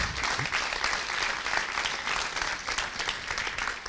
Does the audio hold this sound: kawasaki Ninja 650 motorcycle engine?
no